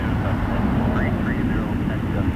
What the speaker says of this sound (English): See, China Eastern 207 from Shanghai.